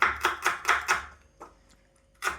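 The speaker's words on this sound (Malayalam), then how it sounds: "അതിനുള്ള സബോള അരിഞ്ഞെടുക്കാം" Onions being sliced with a knife on a board for pork roast: five quick, sharp chops in a steady rhythm, then a pause with a couple of light taps before another chop, close and crisp with no voices.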